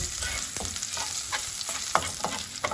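Ginger sizzles in hot oil for a tilapia dish, a close steady frying hiss with quick spatula scrapes and stirs.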